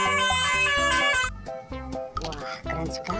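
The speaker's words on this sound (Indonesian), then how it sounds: "Ada bus telolet." A toy telolet bus horn plays a melodic run of loud, stacked musical tones in quick rhythmic bursts, close and steady with short gaps between notes.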